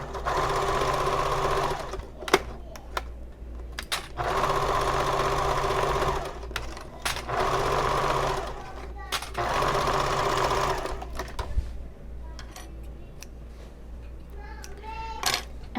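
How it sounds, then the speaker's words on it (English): A sewing machine topstitching a fold on a convertible fabric bag, running in several steady bursts of close whirring separated by brief stops, with a voice speaking quietly in the pauses and afterwards. "And now I'm going to top stitch this fold."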